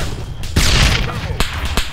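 Gunfire from the military shooter Arma 3: a sharp crack, then a rolling boom with a rumbling tail, followed by two more quick reports, close and loud.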